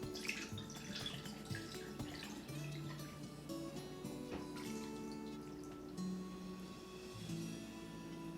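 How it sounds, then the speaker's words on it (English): Water kefir being strained to separate the grains from the liquid, with soft trickling and dripping water and a few light clinks of kitchenware, quiet and close with no talk. "So now all we're going to do is just strain out the grains here."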